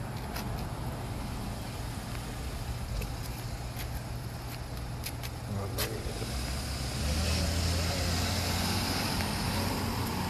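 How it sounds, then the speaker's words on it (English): A car idles and drives on a city street, a steady engine rumble that swells louder as it pulls away, with faint clicks and ambient street noise. "As soon as this car moves."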